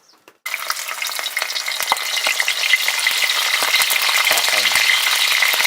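Swallow birds deep-fry in hot oil for a Lao-style dish, a loud, close, continuous sizzle that bursts in after a brief pause, with occasional stirring clatter.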